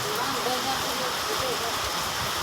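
Steady rain falls in rural Punjab while roti is cooked outdoors, a dense even patter with voices talking faintly underneath.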